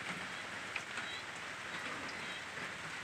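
Steady rain falls in a rural northeastern Thai village around midday, a soft, even hiss of drops with an occasional faint patter, continuous and moderately quiet throughout.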